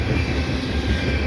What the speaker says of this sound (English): And this is like a 200 car plus train, very heavy, destined for Halifax.